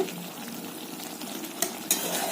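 Snail curry being stirred and fried in a pan, a steady sizzle with scraping utensil strokes and a couple of sharp clinks near the end, no voices.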